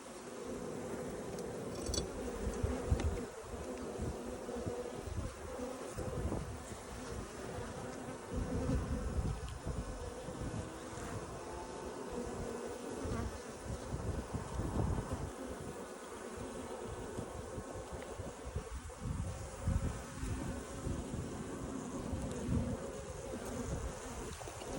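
Dense, continuous buzzing of an Africanised killer bee colony nesting in a chimney, a loud steady drone of many wings close by throughout with no talk.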